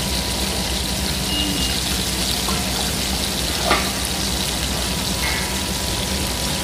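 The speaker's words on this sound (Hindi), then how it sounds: "जी अब इसको मैं दोबारा फ्राई करने में" Boneless fish pieces going back into hot oil for a second fry, giving a loud, dense, continuous sizzle and crackle with a couple of faint clinks and no one talking.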